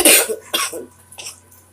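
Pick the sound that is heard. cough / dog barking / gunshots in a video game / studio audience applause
cough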